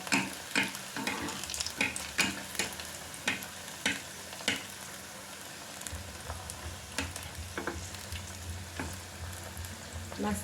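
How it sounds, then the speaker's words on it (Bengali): Chicken sticks deep-fry in a pan of hot oil, a continuous close sizzle broken by sharp clicks and taps of a utensil turning the pieces, with a low hum joining partway through. "এরম করে আমি পুরো লাল করে ভেজে নেব প্রত্যেকটা।"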